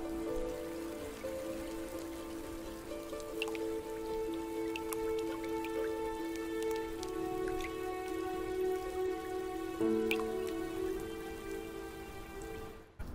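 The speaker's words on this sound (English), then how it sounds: "The long, thin needles comb the clouds, creating water drops that fall directly onto the roots." Scattered water drops fall from pine needles, ticking and pattering softly over a steady bed of sustained, calm musical tones.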